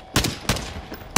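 Gunfire in Call of Duty Warzone: three sharp, loud shots about half a second apart, each with a short echoing tail.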